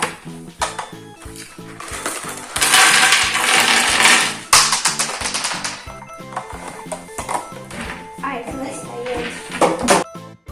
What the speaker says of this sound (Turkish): Arkadaşlar taşlarımızı döküyoruz.